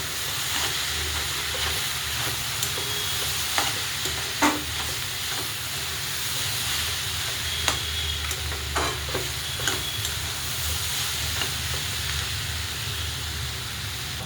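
Cabbage stir-fried with crushed peanuts in a pan, a steady sizzle running throughout with scattered sharp clicks of a spoon scraping and stirring, close and even, with no talking.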